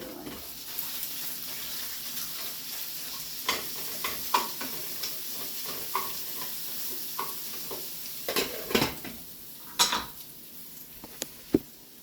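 Pork chops fry in a pan with a soft steady sizzle, broken by scattered scrapes and clicks of a utensil against the pan, close and moderately quiet, with no talking.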